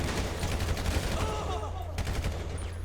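Gunfire rattles through a GTA 5 bank robbery mission, a dense run of rapid shots like automatic weapons going off steadily over continuous game noise.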